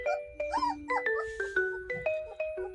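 Three-week-old black and tan puppies whimper and squeal in a run of short, high, sliding cries, several overlapping close by with no talk.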